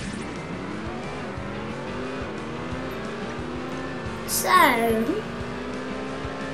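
Game race car engines in Beach Buggy Racing on a snowy Blizzard track, a steady whining engine drone that climbs and shifts pitch, with a brief sharp squeal midway and a voice talking over it.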